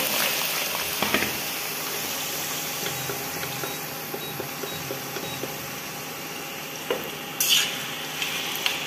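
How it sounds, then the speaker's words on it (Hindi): Potato pieces frying in hot oil for a U.P.-style potato and pointed gourd dish, a steady close sizzle with small crackles and occasional stirring scrapes and clinks, no talking. "अब आलू को तेल में डाल दे रहे हैं तेल हमारा गर्म हो गया है आलुओं को हम डाल दे रहे हैं"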